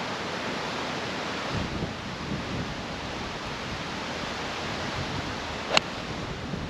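Gale force wind roaring across a golf course, a steady loud rushing buffet across the microphone with no break, and one sharp click near the end.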